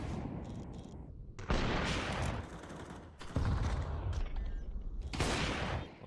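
Gunfire bursts in a professional Counter-Strike esports match, dense rapid shots in several loud clusters with brief lulls between.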